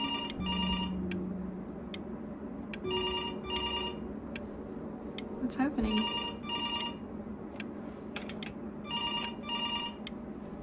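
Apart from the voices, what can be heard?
telephone ringing in video game Before Your Eyes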